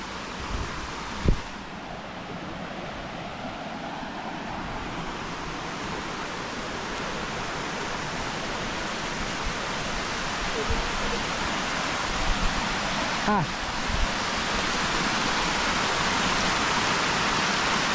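A waterfall at Malico gives a steady, broad rushing roar that grows slightly louder over time, with a few faint knocks and brief bumps.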